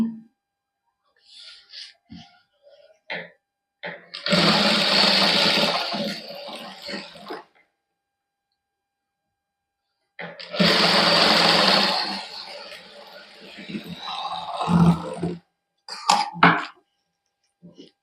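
A sewing machine stitches a patch onto a suit neckline in two sustained runs of rapid whirring, with quiet handling noises and pauses between them.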